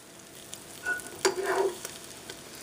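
Butter sizzles and pops in a hot pan while being broken up for a white sauce, with a quiet bed of sizzle that swells into a louder crackling burst midway, then settles back down.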